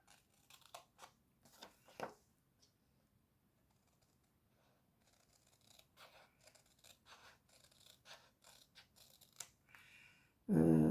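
Scissors cut through scrapbooking paper in a scattered series of quiet snips and crisp rustles, close and soft, ending in a sudden loud thump.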